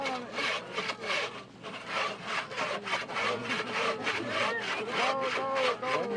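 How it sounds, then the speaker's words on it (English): Women hand-sawing wood in a sawing contest, the saw rasping back and forth in quick, steady strokes close by, with crowd voices faint in the background. "These tough Athabascan women are pounding and sawing in good fun."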